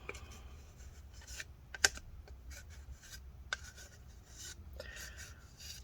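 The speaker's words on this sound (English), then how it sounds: "This side we're gonna have to put a little bit extra, so let me scrape up this." Epoxy glue being scraped up with a small tool during a Dell Inspiron laptop repair, faint intermittent scratchy scrapes and light taps, close and quiet, with no voice.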